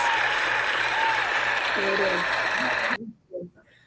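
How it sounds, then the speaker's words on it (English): A burst of applause and cheering plays for about three seconds, then cuts off abruptly, followed by brief quiet talk. "Where's my applause sound?"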